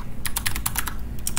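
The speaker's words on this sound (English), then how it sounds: "I'm going to type" Fingers tap on a computer keyboard in a quick run of light, crisp clicks, close and clear against a low background hum.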